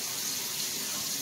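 Water from a kitchen tap runs steadily into a mixing bowl, a continuous close hiss and splash with no pauses, alone without talk.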